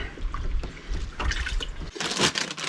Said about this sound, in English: I'm going to wash my hands off